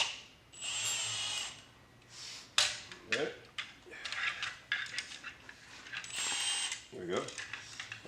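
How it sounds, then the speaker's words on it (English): A drill boring a perpendicular hole straight into a door, the motor whining in two loud bursts separated by clunks, clicks and handling noises of the tool at close range. "now this will drill a perfectly straight hole"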